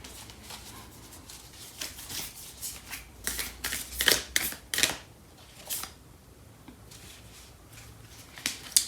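Tarot cards being shuffled close by in quick, crisp riffling bursts that come in uneven clusters, loudest in the middle, with quiet pauses between them and no talking.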